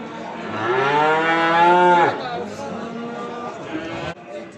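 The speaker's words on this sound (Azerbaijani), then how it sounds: "bordağa gedən, saxlamağa gedən danalar var" Calves at a livestock market in Beylagan moo loudly and close, one long drawn-out call followed by a weaker second moo, with market noise behind.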